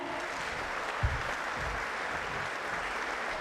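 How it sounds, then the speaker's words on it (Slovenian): An audience at a political party rally gives steady, even applause, a dense continuous wash of clapping with no speech over it. "Močan aplavz prosim za te spodbudne in lepe besede."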